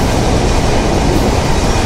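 Padma Express train running on a double line, a loud steady rumble of wheels and carriage noise heard from on board, continuous and close with no voices.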